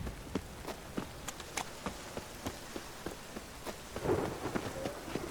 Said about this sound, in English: just rains and rains